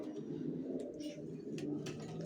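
Racer pigeons in a loft give soft, low cooing that runs steadily through the short stretch, close and moderately quiet, with faint rustles and small bright clicks above it.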